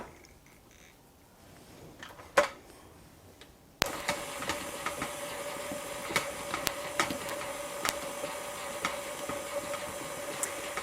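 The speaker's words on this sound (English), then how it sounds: "I'm going to let my mixer do the work because I'm a little lazy" An electric mixer cuts butter into flour for kifli dough. After a few quiet seconds its motor starts with a steady, fairly close whir, overlaid with small regular clicks and rattles from the bowl.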